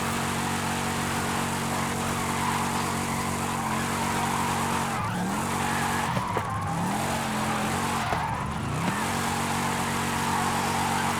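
A modified Chevrolet El Camino drifting in the Forza Horizon 5 racing game, its engine droning steadily while tires squeal in short skids through the middle, loud and continuous with no talking.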